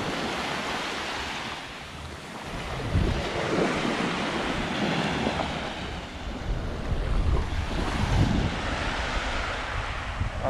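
Ocean waves crash and roll continuously against a partly exposed reef at low tide in the Cayman Islands, a broad, steady roar with surging swells and some wind buffeting the microphone.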